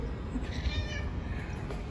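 A single soft cat meow rises over steady low background rumble, close and brief.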